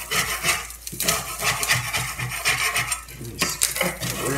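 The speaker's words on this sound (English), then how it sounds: "Scrape that breading off there so it doesn't get all weird." Panko breading being scraped off pork liver frying in a pan, close scratchy scrapes in short uneven bursts over a sizzling background, with no talk.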